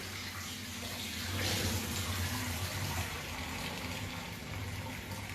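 Water from a pasta pot pours and gushes steadily, likely into a kitchen sink, a continuous close rushing flow lasting the whole stretch with no talk over it.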